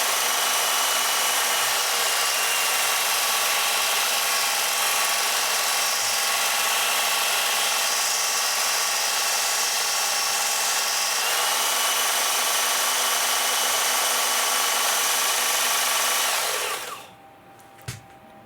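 A blade is ground on a powered sharpening machine, giving a steady, loud, close grinding hiss that runs without a break for about seventeen seconds before cutting off into near silence, with no talking.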